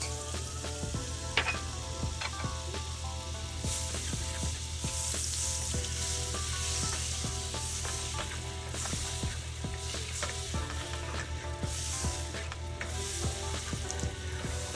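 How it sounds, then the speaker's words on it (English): Butter melts and sizzles in a pan on a stove at medium heat while cooking salmon, a steady loud frying hiss throughout with occasional stirring clinks, close and without talk. "add the butter and then turn our stove to medium heat"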